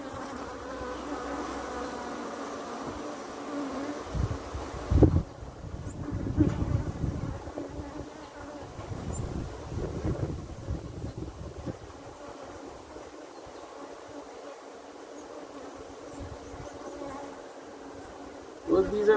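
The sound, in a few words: bees buzzing around a hive's brood frames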